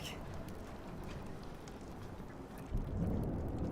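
Thunderstorm in Life Is Strange: steady dense rainfall hisses throughout, with a low rumble of thunder swelling near the end.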